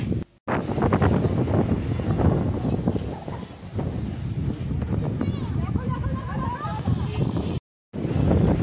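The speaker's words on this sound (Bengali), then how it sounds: "এত ফুরফুরে হাওয়া দিচ্ছিল।" A breezy wind blows at Talsari island on the coast, buffeting the microphone with a steady rushing roar. Faint voices are mixed in, and the sound cuts out briefly twice.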